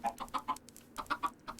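A run of close, clear chicken clucks from the Minecraft mod TerraFirmaCraft, about a dozen short pulses in two quick clusters separated by a short pause.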